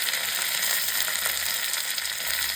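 Dried red chillies, fenugreek, curry leaves and asafoetida sizzle steadily in hot oil, a close, continuous bright crackle and hiss with no talk, for a South Indian okra buttermilk curry.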